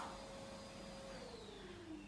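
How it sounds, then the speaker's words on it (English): A household vacuum cleaner hums steadily indoors with a constant whirring drone, its motor pitch drifting slowly downward, quiet and continuous with no voices. "we're going to turn on the hoover"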